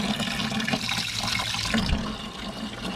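Coolant pouring out of a car radiator into a container, a loud continuous splashing, gurgling stream up close that eases slightly toward the end, with no voices.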